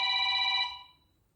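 A telephone bell rings in a garage workshop during an engine teardown, a bright steady electronic trill that rings loudly for under a second, then fades into quiet room noise.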